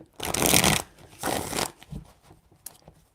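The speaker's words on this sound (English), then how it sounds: "They're a little hard to shuffle, I find, when they're new" A new, stiff deck of tarot cards shuffled by hand in two loud riffling bursts followed by a few soft taps and shifts, close up with no talking.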